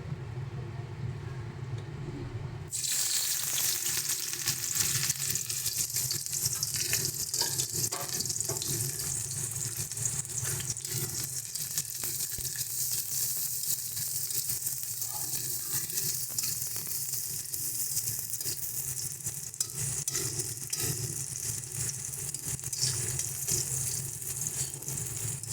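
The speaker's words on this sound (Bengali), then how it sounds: "এবার এর মধ্যে আমরা কুচি করে রাখা পেঁয়াজটা দিয়ে দিচ্ছি।" Chopped onion fries in hot turmeric-tinged oil, giving a loud, steady hiss and crackle that starts abruptly and continues evenly, with faint stirring and no talk.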